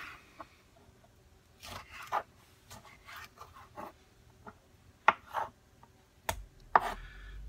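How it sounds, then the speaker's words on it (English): Tomatoes being chopped for a salad on a cutting board, a series of close, crisp knife strikes arriving in irregular bursts with short pauses between. "I usually cut them in half, cut it in half again, and then I chop them"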